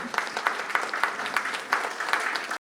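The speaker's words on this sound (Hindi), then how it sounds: "मेरी तरफ से एक जोरदार तालियां अलवी साहब के लिए" An audience claps for Alvi sahab after a staging of the play 'Hatya' at Valmiki Rangshala, Gomti Nagar, Lucknow, giving steady rhythmic applause with pulsing claps that stops abruptly at the end.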